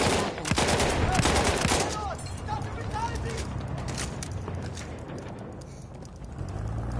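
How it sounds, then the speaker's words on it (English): Machine gun fire in the World War I shooter Battlefield 1, busy bursts of shots near and far in a hardcore conquest match, under steady talk from players. "there's someone shooting, yeah, from the hill."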